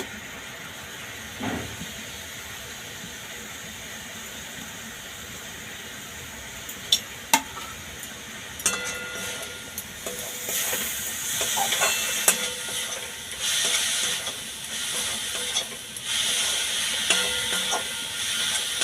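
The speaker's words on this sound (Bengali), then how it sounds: "চিনিটা গলে গেছে এর মধ্যে আমি নারকোলটা দিয়ে দেব" Grated coconut stirred into melted sugar in a pan for a palm-sugar patisapta filling: a faint steady hiss that turns into louder, busier scraping and sizzling in the second half, with no talk.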